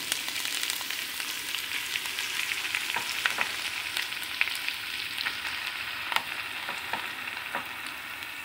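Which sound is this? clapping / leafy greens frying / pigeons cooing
leafy greens frying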